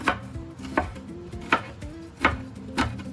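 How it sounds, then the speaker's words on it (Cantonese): A knife chops bird's eye chilli on a board in five evenly spaced, crisp strokes, close up and alone. "咁你切佢啦，切片，咁啊打橫開佢啦，跟住再切"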